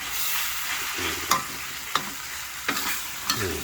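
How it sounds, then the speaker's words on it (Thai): Beef panang stir-fried as coconut milk is drizzled into the pan, with a constant bright sizzle and four spaced spatula scrapes against the pan, close and clear. "ค่อยๆเหยาะครับกะทิค่อยๆเหยาะนะครับเหยาะแล้วผัดไป"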